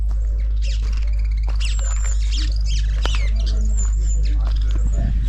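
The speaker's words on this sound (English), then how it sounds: "I hope you can hear all the birds." Birds chirp and tweet in scattered bursts at a safari camp in the Serengeti, over a steady low hum, with short high calls repeating throughout.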